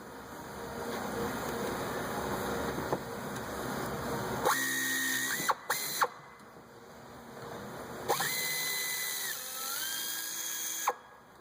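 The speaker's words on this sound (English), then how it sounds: "I'm using an air ratchet, but you can just use a wrench, take them off." An air ratchet spins off 10mm bolts on the rear brake caliper of a Chrysler 300M, two close whirring bursts of about a second each, each ending in sharp clicks, between stretches of quieter shop noise.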